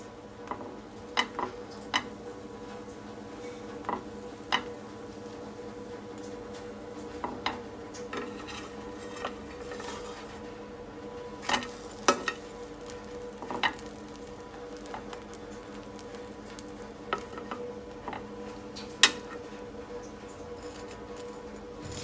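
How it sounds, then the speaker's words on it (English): A chocolate sandwich grills in a pan with a soft, continuous sizzle, punctuated by scattered light taps and clicks, close and quiet with no talk. "So I'll be grilling the chocolate sandwich and you'll see the end results."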